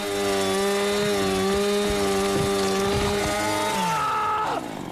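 A chainsaw roars loud and steady for several seconds while cutting off a hand in the zombie film Dead Snow, its engine whine holding strong under grinding, ripping impacts before the pitch climbs and cuts out.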